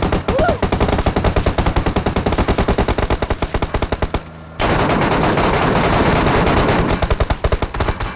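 Loud, rapid automatic gunfire from an online shooter game rattles in long continuous bursts, breaking off briefly near the middle and then resuming.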